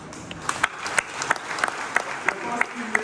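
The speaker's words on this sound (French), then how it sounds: "Je pense qu'il mérite réellement nos applaudissements" Church congregation clapping at a Feast of Christ the King service at Saint-Jean-Baptiste church in Le Moule, a steady rhythmic applause with regular distinct claps over a crowd murmur.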